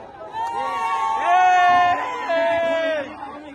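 A group of voices shouts a drawn-out hip hip hooray cheer together at a Raksha Bandhan Govinda event, rising in pitch, loud and close, repeated in two long swells.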